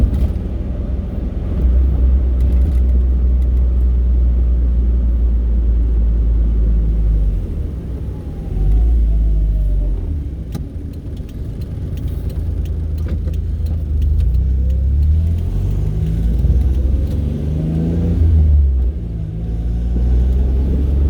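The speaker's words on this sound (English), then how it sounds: "I gotta figure out what that rattling noise is." Steady low engine rumble from a 1994 Geo Metro on the move, with faint rattling and buzzing over the drone throughout.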